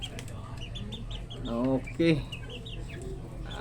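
Chickens cluck and squawk on a small poultry farm, a couple of short, loud bursts against a steady background hum, with someone speaking briefly.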